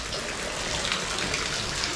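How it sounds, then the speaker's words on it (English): Water falls steadily inside a stone cave, a constant, close splashing wash with no distinct separate drips and no speech. "this is a cave with water dripping"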